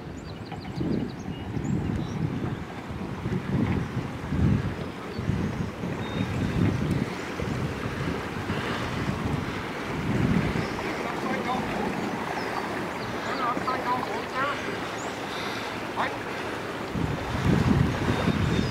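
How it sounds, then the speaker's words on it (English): A boat moving through a flooded river area among submerged homes, a steady rumbling wash of water and wind buffeting the microphone, with faint voices in the background. "There goes the boat."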